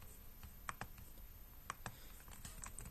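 Keys clatter on a computer keyboard while a git command is entered, a steady run of light clicks with a few sharper, louder keystrokes standing out; close and dry, with no talking.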